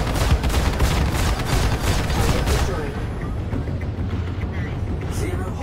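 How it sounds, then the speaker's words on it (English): Weapons firing in the space game Star Citizen during a Super Hornet fighter flight: a dense, loud burst of rapid shots and booms that thins after a few seconds into a rumbling background with scattered impacts. "I'm really enjoying the new sounds of the game, of the weapons"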